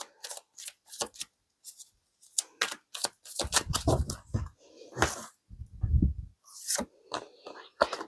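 Advice cards shuffled during a card reading make a series of crisp, close riffling and snapping bursts, irregularly spaced with short pauses and a few heavier thumps.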